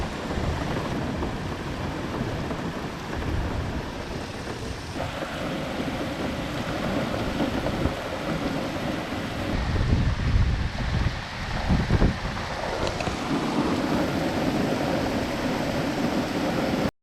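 Wind and rain from a tropical storm beat against an island shelter, a constant dense roar with gusty surges and low rumbles throughout, close and loud.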